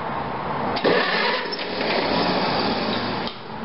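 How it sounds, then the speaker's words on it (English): A cold 1945 Farmall BN tractor engine cranks and catches, a broad rough mechanical roar running steadily close by after a sharp onset, then dropping slightly near the end. "I'm going to make sure my tractor is in neutral and it's cold. And I'm going to start it."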